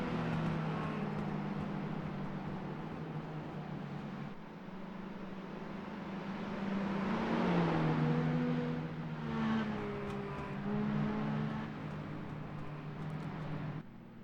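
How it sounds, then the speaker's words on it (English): Monster Mini race cars in a racing video game at New Hampshire, under caution behind the pace car, hum and rev in rising and falling pitches, several droning together at a steady mid distance with no voices. "You hear these guys revving their engines a lot."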